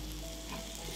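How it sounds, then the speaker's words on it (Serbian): Onion frying in melted butter with olive oil: a steady, dense sizzle with soft crackle, close and continuous for the whole second, no talking. "Za zagrejanu masnoću dodajem luk,"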